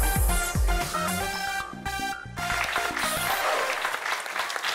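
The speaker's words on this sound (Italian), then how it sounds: "On peut les applaudir." Applause for performers of traditional Corsican chjami aghjalesi singing, a crowd clapping loudly and steadily for a few seconds before the clapping thins and fades.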